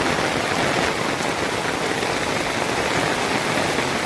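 Heavy first monsoon downpour over flooded roads in Nashik, a loud, unbroken roar of rain beating on surfaces, close and constant with no voices.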